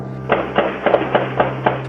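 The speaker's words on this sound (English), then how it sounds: "The sound of dozens of gunshots was captured by a security camera." A rapid series of sharp bangs, about seven gunshots spaced fairly evenly, recorded by a security camera, sounding somewhat distant over a steady low hum.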